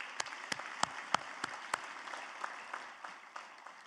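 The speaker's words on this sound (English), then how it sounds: "And those folks deserve your applause." Sparse, scattered applause at a convention, a handful of distinct claps from a few people at first, then thinning into faint, irregular patters as it fades out.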